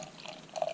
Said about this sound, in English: let's get a pour